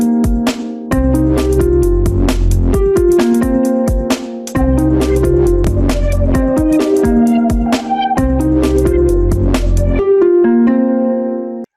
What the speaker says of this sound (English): The keys stop there, the drums stop there, and it sounds like this.